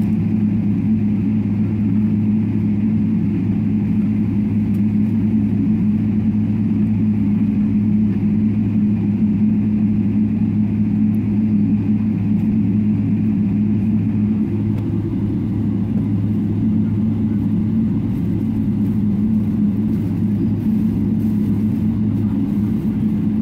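Boeing 777-300ER from PMDG in Flight Simulator taxiing toward the runway holding point, its jet engines giving a steady, loud low drone and rumble that holds evenly throughout with no voices.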